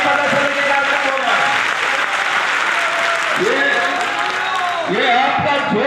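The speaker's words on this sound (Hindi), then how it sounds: "मैं चाहता हूँ एक बार इतना जोरदार तालियों के साथ में स्वागत होना चाहिए" Loud, sustained applause welcomes guests at a political party workers' meeting in a banquet hall, a thick continuous roar of clapping with amplified voices and echoing tones sweeping through it.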